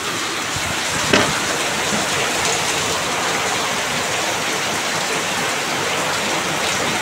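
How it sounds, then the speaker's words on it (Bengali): Heavy rain pours down in a dense, steady hiss of drops on surfaces, loud and unbroken, with one brief knock early on and no talking. "আজকে আমাদের এখানে প্রচণ্ড বৃষ্টি হচ্ছে"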